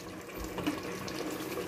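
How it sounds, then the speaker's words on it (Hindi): A glass of water poured into fried masala in a cooking pan, a steady soft splashing pour lasting about two seconds, close and fairly quiet with no talk. "अब हम थोड़ा सा पानी ऐड करेंगे इसमें 1 गिलास"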